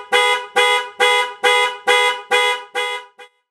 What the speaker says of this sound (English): Sometimes your car alarm can go off when you don't need it to